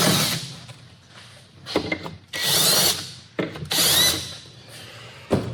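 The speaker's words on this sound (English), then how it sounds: "I gotta drill some holes into my workbench so I can mount it" A power drill whirs in several loud bursts of a second or so each, drilling holes into a wooden workbench up close, with short pauses between.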